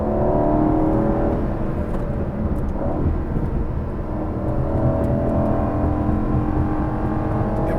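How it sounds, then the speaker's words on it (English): The V8 engine of a 2021 Aston Martin V8 Vantage Roadster in track mode revs with a loud, rising throaty drone and changing pitch, heard from inside the car and continuous with no talking. "Let's go into track mode for the powertrain. Ooh, a little more anger from the V8."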